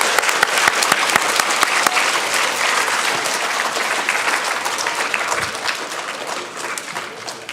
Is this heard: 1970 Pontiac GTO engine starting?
no